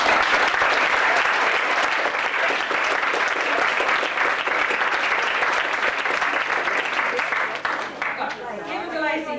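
An audience at a weekend music school concert gives a long, dense round of applause welcoming a band, loud and sustained before thinning out at the end, with some voices and chatter mixed in.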